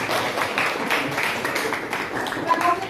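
Applause at an Indonesian school coaching session, steady broadband clapping from a group filling the whole stretch at moderate loudness.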